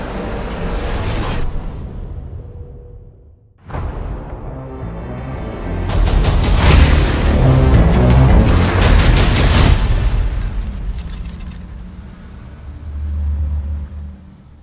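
A 2022 Maserati Ghibli Trofeo's 3.8-liter V8 barks to life loud and close, then rumbles and roars through revs before settling into a deep, throbbing idle with bursts of exhaust.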